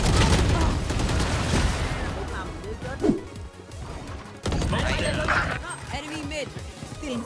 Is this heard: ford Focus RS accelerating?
no